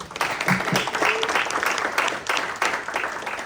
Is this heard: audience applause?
yes